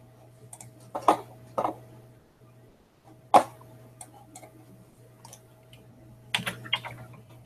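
A computer keyboard is tapped in a few sparse, separate clicks and short clusters over a low, steady electrical hum in a quiet room.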